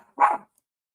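A single short dog bark sounds close and clear, one quick woof in an otherwise quiet room.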